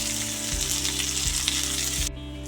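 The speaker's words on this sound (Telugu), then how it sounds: "ఆనియన్ బాగా ఫ్రై అయింది చూడండి" Thinly sliced onions fry in oil with cashews and green chillies in a pan, making a steady close sizzle with a few low thumps, then cutting off abruptly near the end.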